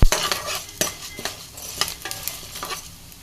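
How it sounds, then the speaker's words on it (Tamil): Cumin seeds fry and crackle in a hot pan while a utensil scrapes and stirs them, giving a steady close sizzle broken by several sharp metallic clinks. "சீரகம் சேர்த்துட்டு அதை சீரகம் நல்லா பொரியணும்."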